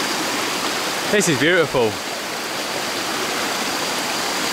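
A river flowing past a waterfall resort in Thailand, a constant close hiss of rushing water, with a short spoken remark briefly over it.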